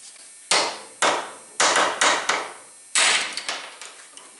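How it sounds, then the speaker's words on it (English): A hammer drives a punch to knock the ball head out of a Mercedes 230 GE wiper shaft: about eight sharp, loud metallic blows in an uneven rhythm, close by with no talking. "After that, I knock out the ball head with a punch."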